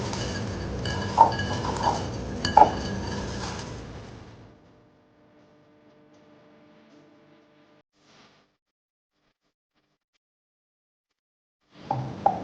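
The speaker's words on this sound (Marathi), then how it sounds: "हे ओलं खोबरं आणि चणे हे छान हाताने मिक्स करून घ्यायचे आहेत" Chickpeas and fresh grated coconut are mixed by hand in a bowl, giving soft clinking and rustling for a few seconds, then near silence before a brief clatter returns at the end.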